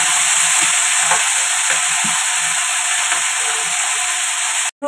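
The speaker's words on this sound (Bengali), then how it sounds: "এদিকে বাঁধাকপিটাও কিন্তু আমার হয়ে এসেছে, একটু ভাজা ভাজা করে নামিয়ে নেবো" Cabbage fries in a pan with a steady, loud sizzle, while a spoon scrapes and stirs in soft, irregular strokes underneath; the frying continues alone without talk until it cuts off at the very end.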